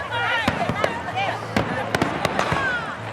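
Firecrackers pop and crackle at varying distances in the evening in Darwin during a fireworks display, sharp bangs scattered over a busy outdoor background with voices and whistling.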